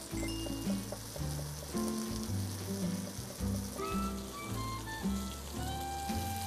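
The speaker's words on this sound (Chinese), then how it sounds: "现在在边煎的过程当中，鸡皮已经释放出它的油脂出来了" Chicken skin pan-frying without added oil as it releases its fat, a continuous crackling sizzle with scattered pops, close and steady, under background music.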